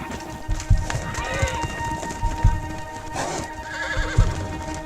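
Horses whinny and neigh repeatedly among irregular hoof thuds and clopping, a busy, close herd of wild horses gathering at water in Nevada, with some voices mixed in.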